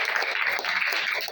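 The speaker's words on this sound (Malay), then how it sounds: "Tepuk tangan plus." An audience claps together in a steady, dense patter of hands that stays at even loudness throughout, with faint voices underneath.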